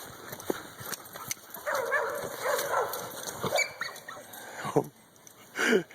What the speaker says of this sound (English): Oh, dog battle.